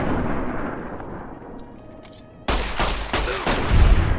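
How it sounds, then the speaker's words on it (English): Gunfire in Fallout: New Vegas near Goodsprings and Primm, a quiet stretch giving way to several loud close shots in quick succession, with sharp bursts repeating over the last couple of seconds. "I don't mind shooting the arm here."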